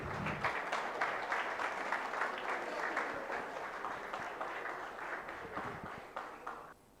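An audience at a college tech project prize ceremony in Pune applauds a third-place winning team with sustained dense clapping that slowly thins and fades near the end.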